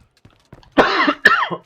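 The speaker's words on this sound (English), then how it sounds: "All this darn coughing I'm doing." Two hoarse, throaty coughs from a man playing State of Decay 2, close to the microphone, the second following shortly after the first, preceded by faint clicks and no speech.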